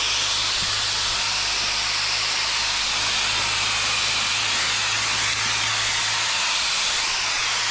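Vogma V40 portable motorcycle dryer blowing air through a nozzle outdoors, a loud, steady, broadband rushing hiss with a low motor hum underneath, continuous throughout and without talk.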